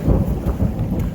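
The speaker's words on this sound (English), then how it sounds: "Well, it's raining right now" Thunder rumbling amid steady rain during a mountain storm in the Swiss Alps on the trail between Lenk and Gstaad, a dense low roar with rainfall throughout and no talking.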